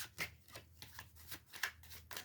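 Tarot cards being shuffled by hand, a quick run of rhythmic riffling bursts about every third of a second, close and soft with no talk.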